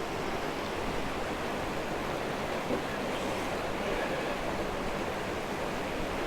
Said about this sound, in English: This is water.